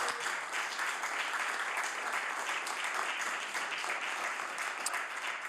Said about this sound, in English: ask them to stand and ask members to give them applause